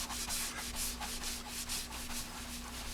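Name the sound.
rubbing compound being rubbed on Honda NS250R fairing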